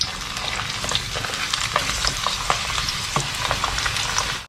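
Ginger, shallots, garlic and coriander root frying in hot oil in a pan for Thai crispy noodles with gravy, making a loud, dense, continuous sizzle with crackling pops and stirring scrapes up close and no voices.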